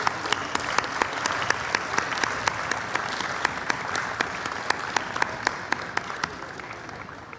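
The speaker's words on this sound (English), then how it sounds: "Let's give a big round of applause for Miss Jacqueline Polk-Lyons" An audience at the World Culture Festival applauds an award winner, with sustained clapping mixed with sharp, regular claps standing out close by throughout.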